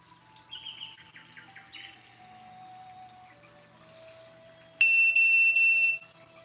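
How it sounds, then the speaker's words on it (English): A timer alarm goes off during an indoor yoga session, a bright steady electronic beep lasting about a second near the end, after faint chirpy tones, with no talking. "That was my timer."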